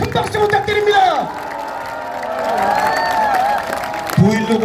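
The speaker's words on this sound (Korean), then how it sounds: "동의하신다면 큰 박수 부탁드립니다" Crowd at an election rally for a candidate in Icheon claps and cheers loudly, a steady wash of applause with whoops, while an amplified voice talks over it throughout.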